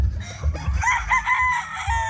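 A small rooster crows in a rising, drawn-out call, fairly close and loud, with low background rumble beneath it.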